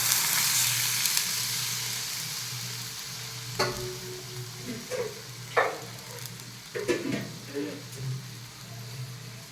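Water hits vermicelli frying with chili powder and masala in a pan, starting with a bright, hissing sizzle that settles into a lower bubbling. A spoon knocks and scrapes in intermittent stirring strokes, and a person talks now and then.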